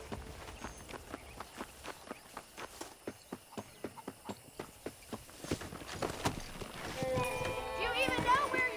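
Saddled horses walk along in Red Dead Redemption, their hooves clip-clopping in a steady rhythm at moderate distance. The hoofbeats later blend into rising ambient noise and music.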